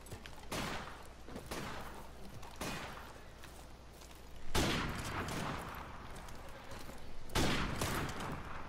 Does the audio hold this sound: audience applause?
no